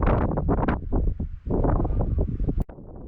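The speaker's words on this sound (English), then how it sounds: "Braving the wind for one last time that day" Strong wind buffets the microphone on an exposed Dartmoor hilltop near Fur Tor, loud gusting roars rising and falling close to the mic, with a brief sharp knock near the end.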